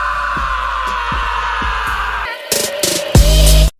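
A demon in an anime lets out a harsh, piercing scream that rises over a droning background and a few thumps, then ends in a loud distorted burst before cutting off.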